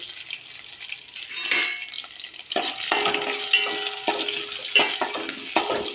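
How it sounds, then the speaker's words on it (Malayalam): A spatula stirs curry leaves, green chilies, shallots and garlic in a hot pan, giving repeated scraping and clinking strokes over a light sizzle, fairly close and with no voices. "കരിയാതെ നന്നായി ഇളക്കി കൊടുക്കാം"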